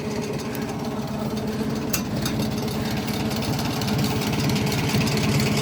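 An old tractor engine idles loudly and steadily just after starting, with a low, rhythmic chugging and knocking pulse that runs close-up through the whole stretch without any talk.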